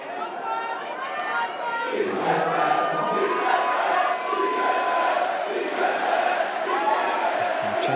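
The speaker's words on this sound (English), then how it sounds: "Chanting is all about the name of Hungary" Crowd chanting for Hungary at a women's water polo match against Canada in Budapest, a dense sustained roar of many voices at steady volume with chatter and cheering mixed in throughout.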